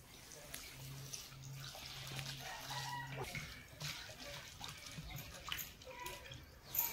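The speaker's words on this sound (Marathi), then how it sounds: "आता आपण पाण्याने स्वच्छ धुवून घेऊ" Flattened rice (poha) is rinsed in water in a kitchen, giving faint sloshing and trickling splashes at low volume, with some quiet background noise.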